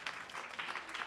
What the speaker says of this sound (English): Can I have a round of applause for all my panelists?